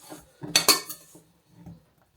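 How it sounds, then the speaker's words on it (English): A metal spoon works soda bread dough with raisins in a bowl, giving a short burst of clinking, scraping strokes, then a softer knock at the end. "I'm going to use the back of a metal spoon instead"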